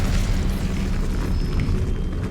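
Incendio fire spell cast in the Hogwarts Legacy video game, a deep rumbling whoosh of flame that holds steady for about two seconds before a brief crackle at the end.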